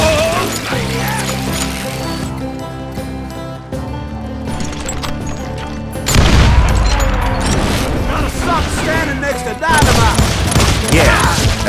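Hired guns fire in Call of Juarez Gunslinger, a loud, dense barrage of gunshots and booms over a dramatic music score, continuous and close throughout.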